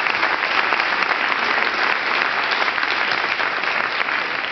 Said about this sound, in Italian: Un applauso per Paolo Panelli.